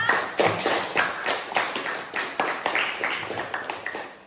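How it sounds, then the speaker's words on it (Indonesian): Applause from a group, brisk clapping with repeated bursts of hand claps throughout, fairly close and steady. "Tepuk tangan dulu untuk kita semua."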